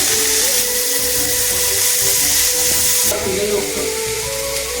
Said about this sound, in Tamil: அது பொரிஞ்சு வந்தோடனே வெங்காயம் வெங்காயம்